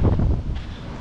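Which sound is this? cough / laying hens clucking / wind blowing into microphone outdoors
wind blowing into microphone outdoors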